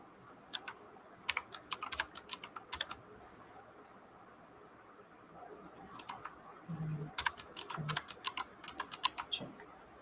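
Rapid bursts of typing on a computer keyboard while entering JavaScript code, crisp close key clicks in clusters separated by a short pause, with no talk over them.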